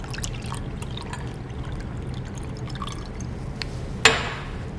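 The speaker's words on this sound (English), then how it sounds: "add some water to make it water bath for heating" Water poured into a glass vessel over ice to make a laboratory water bath for heating, a steady splashing trickle with a sharp clink near the end.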